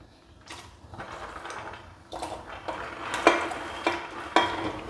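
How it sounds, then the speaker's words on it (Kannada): Chopped vegetables are tipped into a pulao pot over a raised flame, giving a run of close clattering and scraping strikes of a utensil against the pot with a faint sizzle underneath, and no talk. "ಇಲ್ಲಿರುವ ತರಕಾರಿ ಏನಿದೆ ಆಗ ಕಟ್ ಮಾಡ್ಕೊಳ್ಳೋದು ಅದನ್ನೆಲ್ಲ ಹಾಕ್ತೇನೆ"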